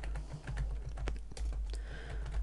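Rapid typing on a computer keyboard, close and steady clatter of individual key presses with a low background hum underneath, no voices.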